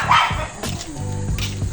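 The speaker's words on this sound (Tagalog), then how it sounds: "Ayun yung aso." A dog gives a couple of short, sharp barks close by, followed by softer yips and whimpering sounds.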